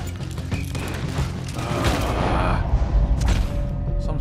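Gunfire in Red Dead Redemption 2 during a tram escape, a dense game-combat mix of booming shots and clatter that thickens halfway through, with rumbling low end throughout.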